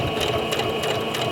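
A sewing machine runs in steady, close stitching on fabric, a loud continuous mechanical whir with a rapid rhythmic pulse and no talk.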